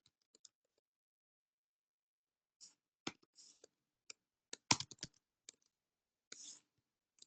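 Sparse, quiet keystrokes on a computer keyboard while Python 3.8 code is typed, scattered single taps and a short cluster of clicks with long silences between.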